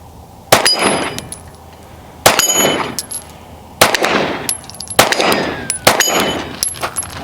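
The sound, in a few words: handgun shots hitting a 5-inch round steel target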